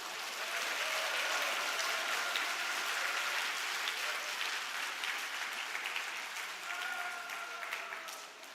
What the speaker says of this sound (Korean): 박수 하십시다. 박수.